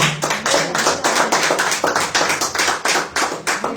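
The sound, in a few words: church congregation applause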